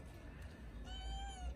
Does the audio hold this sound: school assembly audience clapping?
no